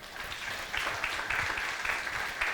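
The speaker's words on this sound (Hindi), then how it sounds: "शानदार, जोरदार तालियां।" Applause from an audience at a daytime session of a multi-day training workshop, a moderate wash of clapping that swells slightly in bursts and holds steady at mid distance throughout.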